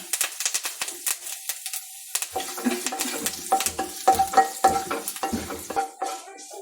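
Onions fry in a pan with a few curry leaves, sizzling and crackling as a spoon stirs and scrapes through them in quick, uneven strokes, close and steady, with no talking, for a Kerala chena stem and green gram thoran.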